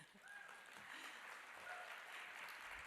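Audience applause at a conference session on anti-rights sentiment: a steady, dense wash of clapping that holds at an even level for the whole stretch, with no voices rising above it.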